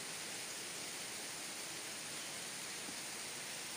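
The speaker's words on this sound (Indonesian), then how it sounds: "air terjun" Waterfall at Curug Cisaruan, a steady broadband roar of falling water heard continuously and fairly loud, with no other sounds over it.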